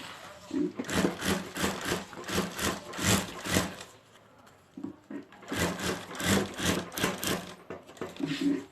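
A sewing machine runs slowly around a curved seam while stitching a handbag, producing rhythmic thumping stitch pulses in two runs separated by a short pause, close and moderately quiet.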